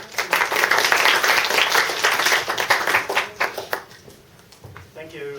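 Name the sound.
audience applause after lecture introduction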